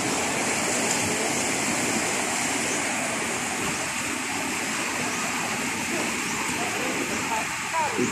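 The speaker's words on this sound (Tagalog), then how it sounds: "Sa Barangay Tumiyaw, ang lakas ng tubig lang." Loud, continuous rushing water roars throughout, a broad steady wash of churning current with no pauses.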